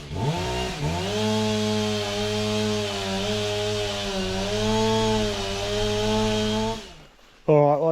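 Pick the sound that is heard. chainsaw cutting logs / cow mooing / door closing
chainsaw cutting logs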